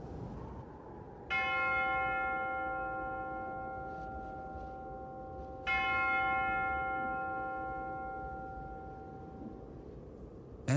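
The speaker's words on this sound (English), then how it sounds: "the defenders heard the temple bell start to chime midnight down the valley" A deep temple bell strikes twice, chiming midnight, each toll ringing out with a long, resonant decay over a low background rumble.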